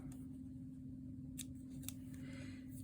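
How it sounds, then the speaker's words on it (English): Scissors snip through crochet yarn in a couple of sharp, brief cuts at close range, set against a steady low hum with no talking. "I'm going to snip this"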